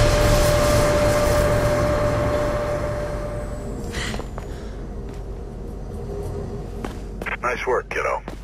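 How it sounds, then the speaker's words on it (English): A train approaches in a tunnel in the video game Mirror's Edge, a loud low rumble and rising whine filling the space, then fading, with a voice speaking toward the end. "There's a train coming behind you. Get the hell out of there."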